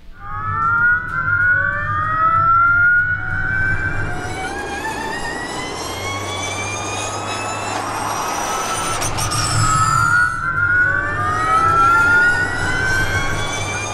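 Formula E electric race car during testing, high whining electric motor tones rising and falling as it accelerates and passes, with tire and wind roar, fairly loud and unaccompanied by talk.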